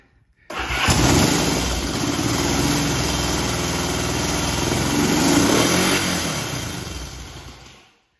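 A Honda CB77 Super Hawk motorcycle engine, under restoration, cranks and fires up, then runs at a loud, steady idle for several seconds before fading out near the end.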